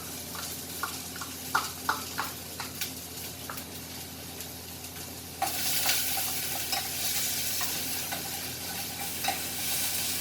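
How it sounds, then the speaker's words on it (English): Onion going into oil heated to smoking point: a few sharp spoon taps at first, then a loud burst of sizzling that settles into steady frying with regular stirring clinks. "In smoking point, we are gonna add the onion in it."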